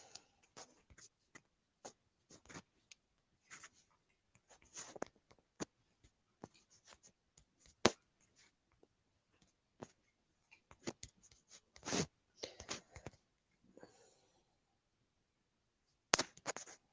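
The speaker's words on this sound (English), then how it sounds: "You just all have to listen to me trying to type shit out." Fingers tap out irregular bursts of keystrokes on a keyboard, quiet and close, with short clattering runs broken by pauses and a few louder presses.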